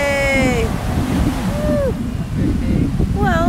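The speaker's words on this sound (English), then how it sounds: "they're not very big waves like this morning" Small ocean waves roll onto the beach at Perdido Key, Florida, giving a constant rushing surf with wind buffeting the microphone. Voices and high cheering sounds from people on the beach come through over it.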